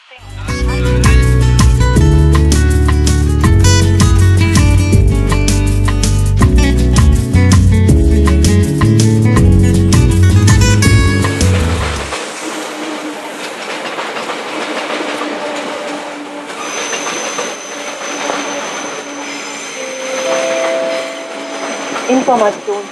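A regional RB 38 train pulls into platform 4 of a station, with loud rolling clatter and rumble for about twelve seconds. Quieter brake hiss and squealing tones follow as it slows.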